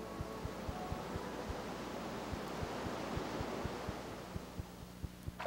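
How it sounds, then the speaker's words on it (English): A powerful waterfall at Castle Springs roars with plummeting water, a continuous broad rushing wash under faint regular low ticks, with no talking. "Beautiful Fall of Song, with its powerful, plummeting, roaring water"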